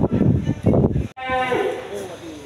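Close, loud moo from Aceh-breed cattle at a livestock market, preceded by someone talking; the single drawn-out low call dominates the second half.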